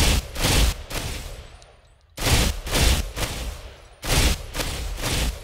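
Burst-fire rifle shots from Ghost Recon Phantoms, a video game with a medium barrel fitted, crack out in three loud, quick bursts, each spaced about two seconds apart with a short decaying tail.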